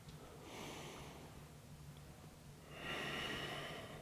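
Two breaths during a yoga exercise, an inhale then a longer exhale, close and soft with a low steady hum underneath and no talking.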